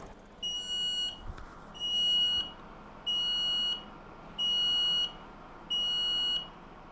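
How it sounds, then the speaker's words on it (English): Five loud, shrill electronic beeps, each about a second long, evenly spaced with short pauses between them. "So if I flip it on here, it's gonna beep really loudly."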